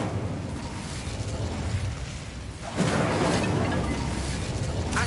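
The Incendio fire spell is cast in the Hogwarts Legacy video game: a sudden whooshing, fiery burst erupts about halfway through over a constant low background rumble, then stays loud to the end.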